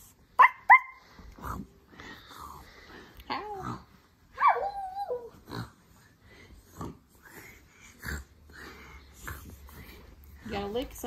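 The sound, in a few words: child imitating dog barking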